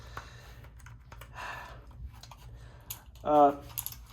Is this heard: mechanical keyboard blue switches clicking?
yes